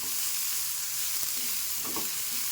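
Potatoes, onion and peas frying in a pan, a dense continuous sizzle that fills the clip, with a few faint stirring scrapes and clinks near the end; close and steady, with no talking.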